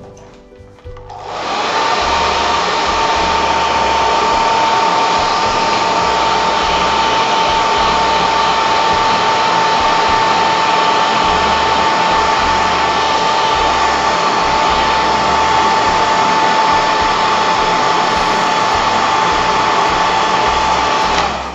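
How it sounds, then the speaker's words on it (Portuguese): A hair dryer switches on and blows continuously with a loud steady whirring hum and airy rush, unchanging for about twenty seconds before cutting off. "essa parte posso acelerar no secador"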